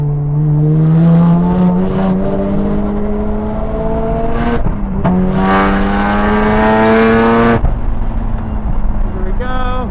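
A Mazda RX7 race car lapping the VIR circuit, its rotary engine loud and close from the cabin, rising in pitch through two long pulls with brief drops at the upshifts.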